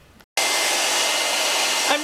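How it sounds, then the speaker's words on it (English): A hair dryer starts after a brief silence and blows steadily and loudly, drying screen-printing emulsion on a silk-screen frame; a hand-held blower used in place of a heat gun, running continuously without talk. "time to break out the blow dryer."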